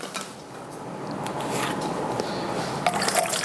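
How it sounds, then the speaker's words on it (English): Water pours steadily into a container, a continuous splashing gurgle with a few brighter drips near the end. "I'm just going to pour the 1 gallon."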